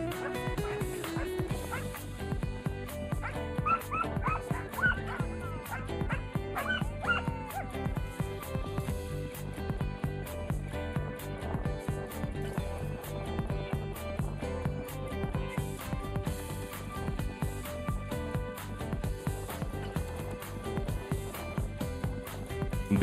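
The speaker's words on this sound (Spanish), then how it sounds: "acompañados de los ladridos del resto de canes que forman la mano, que también quieren correr tras la liebre" A pack of greyhounds barks and yips continuously at a hare coursing event, with dense overlapping barks and whines sounding close and loud throughout.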